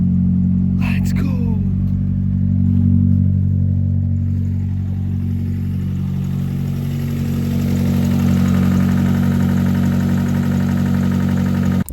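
A project car's engine idles right after starting, a loud, close, steady low rumble holding evenly for about twelve seconds, with a brief higher rattle near the start.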